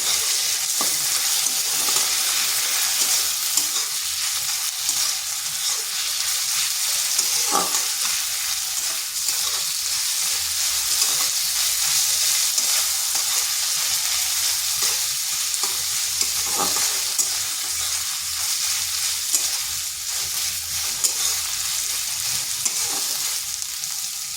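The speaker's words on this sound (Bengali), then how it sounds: "এরপর আদা রসুনটাকেও একটু ভেজে নিচ্ছি যাতে তার কাঁচা গন্ধটা চলে যায়।" Ginger and garlic paste frying in oil for an egg and pointed gourd curry, a loud continuous sizzle with intermittent stirring scrapes throughout.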